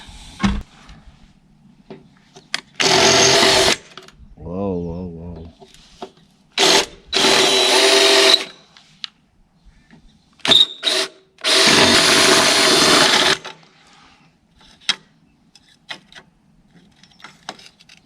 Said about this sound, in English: Let's drill them.